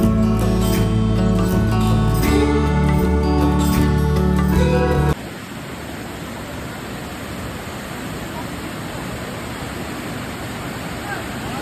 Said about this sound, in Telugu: ఈ వాటర్ ఫాల్స్ నేమ్ వచ్చేసి విరిపర వాటర్ ఫాల్స్